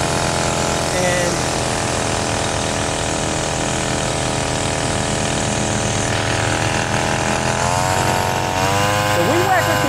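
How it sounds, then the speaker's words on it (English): A string trimmer edging a lawn buzzes steadily and close throughout, a continuous high motor whine with a slight rise near the end, while a person talks over it. "So I like to edge with the weed whacker."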